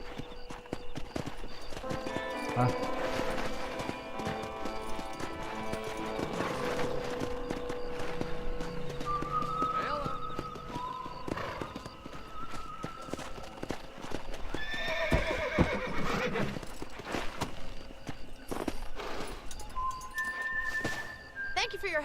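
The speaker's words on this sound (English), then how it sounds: "It's your horse." Horse hooves clip-clop in a steady walking rhythm with a whinny, over soft game music and a brief spoken interjection, from the video game Red Dead Redemption.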